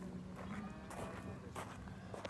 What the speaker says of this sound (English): And the cows are mooing.